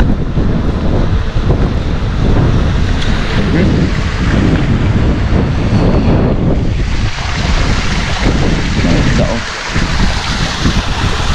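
Strong outdoor wind buffets the microphone in loud, continuous roaring gusts near a waterfall, with a brief dip before the rush returns; faint talk may sit beneath the noise.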